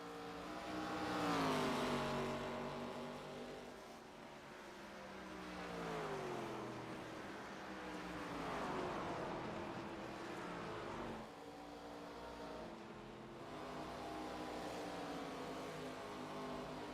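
ARCA-style stock cars race at Phoenix Raceway in iRacing, with engines droning and rising and falling in pitch as the cars shift gears and sweep past in waves, at a fairly faint level.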